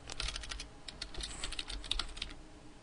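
Keys on a computer keyboard are tapped in a quick, uneven run of soft clicks, faint and close, with no talking.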